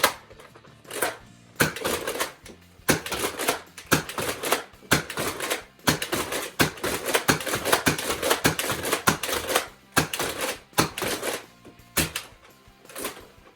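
Air Warriors (Buzbee) Sentinel blaster firing Dart Zone Max darts from a Dart Zone magazine at about 80 FPS, giving a rapid run of loud, sharp mechanical cracks in quick bursts with short pauses between them and no talking.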